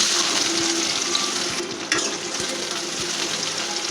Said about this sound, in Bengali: পেঁয়াজটা একটু ভাজা ভাজা হলে আমাদের পেঁয়াজ ভাজা হয়ে গেছে